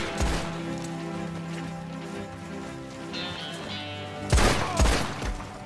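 Gunfire in the Red Dead Online video game, a few sharp shots near the start and a louder burst of cracks toward the end, set over a sustained tonal music bed.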